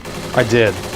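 Brief burst of gunfire in the video game Kane & Lynch 2: Dog Days, a quick rattle of shots lasting under a second, overlapped by a man's short spoken remark.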